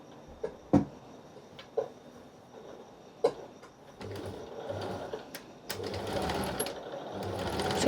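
A sewing machine stitches backing fabric for a hard cover journal, first in a few short isolated bursts, then running in longer, louder continuous stretches of rapid mechanical chatter.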